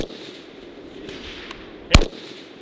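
A single sharp gunshot cracks from a prone shooting position on a range, loud and close, standing alone over a low outdoor background hiss with no talking.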